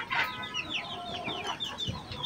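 A golden Sebright chicken on a farm clucks in a quick series of short, close, fairly soft notes, with faint farmyard background and no talking.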